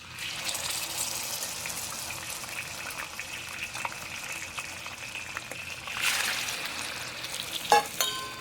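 Caramelized pork belly frying in a pan, a soft steady sizzle and crackle throughout with occasional stirring and clinks, fairly faint and without talk.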